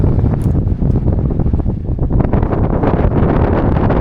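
Strong wind buffets the microphone in loud, rough gusts on a boat at anchor off the Isle of Rum, Scotland, a constant roaring rush with occasional creaks and flaps.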